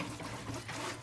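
Tap water runs over a kitchen range hood grease filter during rinsing, a faint steady splash and trickle with no talk.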